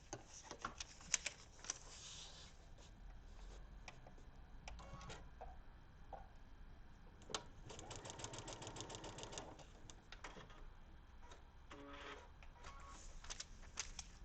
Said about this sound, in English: So I'm going to take this to the sewing machine.